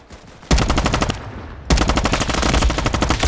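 Rapid automatic gunfire from a Roblox shooting game, loud close bursts of regular shots separated by a brief pause, with no talking.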